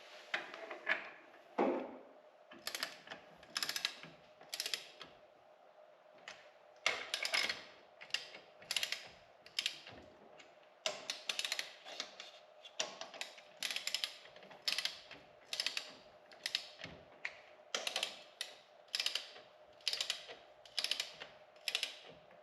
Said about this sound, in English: we're going to torque all four of these down to the same torque spec